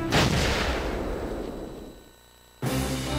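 A heavy explosion in the Valkyria Chronicles video game booms loudly up close and then decays over about two seconds. A second sharp blast cuts in near the end.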